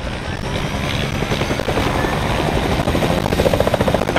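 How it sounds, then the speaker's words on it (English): Helicopter flying overhead in the video game Fortnite, a loud continuous rotor chop and engine roar holding steady throughout, close and dominant with no talk over it. "Helicopter, got it."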